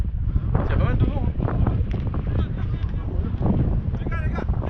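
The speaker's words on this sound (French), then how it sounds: "Il y a pas mal de vent." Strong wind at an outdoor U18 football match buffets the microphone in a constant low roar, while players and coaches shout and talk over it.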